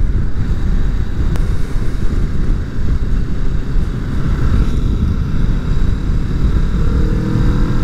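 A 2020 Kawasaki Vulcan S motorcycle cruises on a warm day near Brisbane, its engine a constant loud drone mixed with heavy wind rush across the microphone, unbroken and with no talking.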